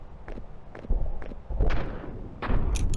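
Gunfire in a horror video game comes as a series of sharp, close shots with low booming thuds at irregular intervals, and a couple of heavier blasts toward the end.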